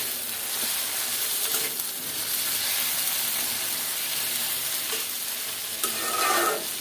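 Spices and ginger garlic paste frying in oil, a dense steady hiss of sizzling held throughout with occasional faint stirring scrapes, close and even in level, without speech.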